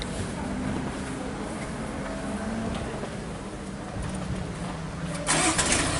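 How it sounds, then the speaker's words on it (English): A Jaguar F-Pace engine starts remotely via a phone app, a broad rumbling crank settling into a steady idle, heard amid noisy trackday surroundings with a brighter burst near the end. "you can start your car with an app"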